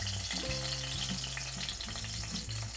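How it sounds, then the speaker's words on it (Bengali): Eggplant slices fry in hot oil, giving a steady, close sizzle and crackle throughout with a faint low tonal backdrop underneath. "দেখলেই বুঝতে পারছেন যে বেগুনটা আমি বেশ কড়া করে, লাল করে, বেগুন ভাজার মতো করে ভেজে নিলাম"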